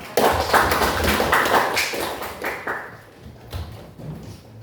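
A class of students claps hands together in a room, a dense burst of applause that stays busy for several seconds and then thins out toward the end.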